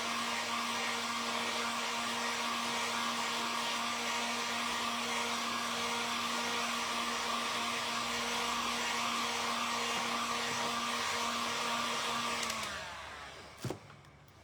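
A hair dryer blows a loud, steady whirring drone over fresh paint on a thrifted decorative bird, then cuts off near the end, followed by a single clunk.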